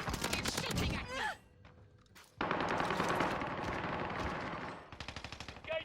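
Gunfire in Call of Duty Warzone: rapid bursts of automatic fire close by with short pauses between them, ending in a quick string of shots.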